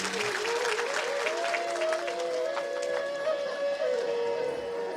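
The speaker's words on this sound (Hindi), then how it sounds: "के लिए जोरदार ताली बजा दी।" A devotional religious discourse audience breaks into loud, sustained applause that continues steadily throughout, with a melodic instrument line running faintly above the clapping.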